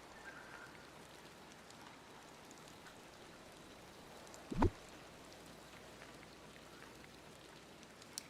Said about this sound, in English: Does it rain this much for any of you guys?